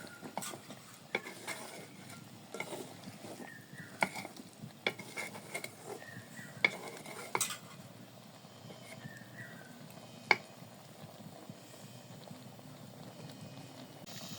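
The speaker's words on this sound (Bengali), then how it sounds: "চেপা দিয়ে আর একটু নাড়িয়ে দিই।" Spoon stirring banana flower curry with chepa shutki, jackfruit seeds and stolons in a pan, soft irregular scraping and clinks over a low simmering bubble, fairly quiet.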